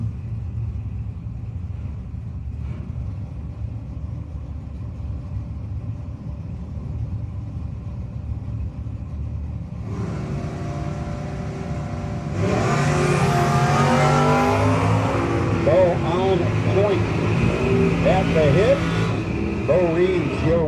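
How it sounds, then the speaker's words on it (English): At a No-Box 660 drag racing event, cars including a Firebird idle with a low rumble, then launch side by side in a sudden, loud roar of revving engines that stays strong to the end. "Bercudo and the Firebird getting ready to go side by side with Bo."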